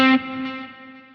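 A single sustained electric guitar note rings out, its decaying tail smeared by reverb that blurs the delayed repeats of a Line 6 Helix Heliosphere delay, clear and fairly loud and fading gradually.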